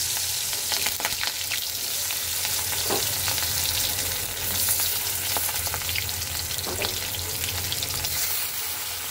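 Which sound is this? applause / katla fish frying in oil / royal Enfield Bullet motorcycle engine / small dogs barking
katla fish frying in oil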